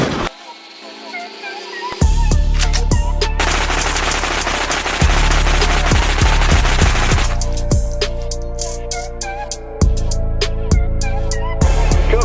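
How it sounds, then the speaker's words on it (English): Sustained bursts of rapid gunfire ring out loud and close, with dense strings of shots and sharp individual cracks over roughly twelve seconds and a brief quieter start. "I hear shots!"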